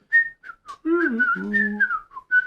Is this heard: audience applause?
no